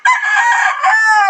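A backyard fighting rooster crows loudly and close by in one long, sustained call that falls away at the end.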